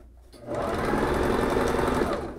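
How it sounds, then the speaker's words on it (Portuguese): A sewing machine stitches close along the edge of fabric for a child's dress, a short loud steady whirring burst that starts after a brief pause. "E aí eu costuro na beiradinha."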